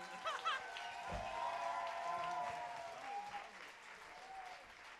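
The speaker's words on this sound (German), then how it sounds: "Riesen Applaus für die beiden bitte" Concert audience applauds two performers at a live show, a continuous moderate wash of clapping with a few voices and whoops rising over it.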